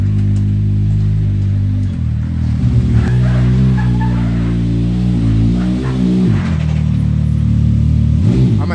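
A Can-Am X3 side-by-side engine revs hard at full throttle, a loud, close, sustained roar whose pitch climbs and wavers as the revs rise and settle before dropping near the end.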